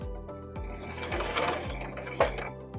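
Sewing machine stitching over the strap of a small fabric tote bag, with a steady, fast mechanical rhythm of needle strokes, close and continuous, plus a brief sharp click near the end.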